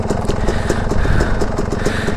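A dirt bike engine runs steadily throughout, a loud, close, continuous motor drone with a slightly rough, clattery texture, as if idling or moving slowly with a beginner at the controls.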